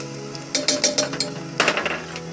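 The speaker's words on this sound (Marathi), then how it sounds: "मिरची, तमालपत्री, चिरलेली कोथिंबीर, टोमॅटो सगळं असं हलवून घ्यायचं" Spices, chilli, bay leaf, coriander and tomato stirred in a pot for masale bhat, a quick series of metallic spoon scrapes and clinks over a low sizzle, close and fairly loud.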